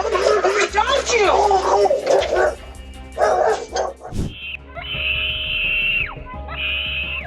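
A dog barks and yips close by amid loud, agitated voices, then a long, high, wavering cry rings out near the end.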